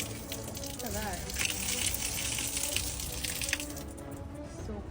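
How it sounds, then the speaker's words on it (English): Water running from an outdoor shower built into a tree trunk, a steady broadband rush lasting the whole stretch while people talk over it. "They actually have a shower from the tree. Babes, open the water."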